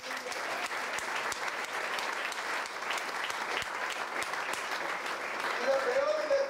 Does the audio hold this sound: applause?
yes